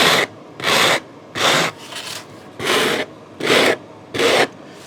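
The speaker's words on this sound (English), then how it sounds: "all I'm doing with a 60 grit is just taking off most of this top edge here" Coarse 60-grit sandpaper rasps along the edge of a balsa aileron in six rhythmic forward strokes, close and loud, with brief pauses between each pass.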